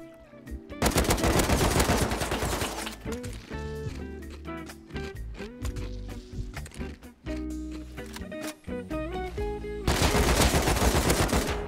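Gunfire from the survival video game Rust rattles in loud rapid automatic bursts, with a dense opening volley, scattered single shots in the middle and another heavy burst at the end.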